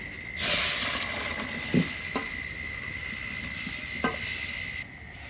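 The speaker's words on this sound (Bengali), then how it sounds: "রান্না করার আগে আমি কিছুক্ষণ ভাপিয়ে নেব" Taro flowers steaming in a small covered wok give off a steady, soft hiss throughout, with a few faint clinks and taps over the continuous steam noise.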